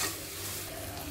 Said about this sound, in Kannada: ಸ್ವಲ್ಪ ಒಗ್ಗರಣೆಲೆ ಫ್ರೈ.